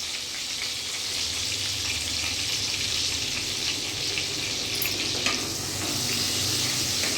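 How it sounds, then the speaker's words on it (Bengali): Eggplant frying in a pan with salt and turmeric, giving a steady close sizzle that holds evenly throughout with no voice. "নুন হলুদ দিয়ে বেগুনটা আমি ভেজে নেব।"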